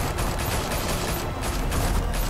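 Dense, continuous gunfire from several weapons in Batman: The Telltale Series, a steady loud roar of overlapping shots with no pauses.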